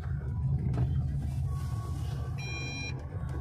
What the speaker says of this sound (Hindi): मैं अभी ड्राइव कर रहा हूँ